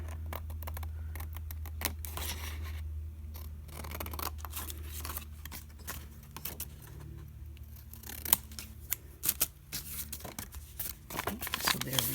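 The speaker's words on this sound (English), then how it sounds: "Now I'm going to cut a piece that will fit the bottom" Scissors cut paper for a budget journal envelope tag, a series of close crisp snips and rustles of paper handling, with light intermittent clicks and a low steady hum beneath.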